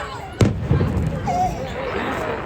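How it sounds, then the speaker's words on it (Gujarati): A sharp firecracker bang goes off during Uttarayan festival celebrations, followed by scattered distant crackles and pops under a noisy outdoor background with faint voices. "જો ફટાકડા પણ ફૂટવા લાગ્યા અત્યારે."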